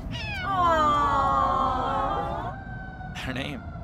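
A cat meows in a long, drawn-out wailing cry that rises and falls for about two seconds, followed by a brief shorter mew, heard clearly and close against a low background hum.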